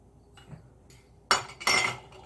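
A spoon of salt goes into glass canning jars for tomatoes, giving a few soft ticks followed by two sharp bright glass clinks and a short rattle, close and clear.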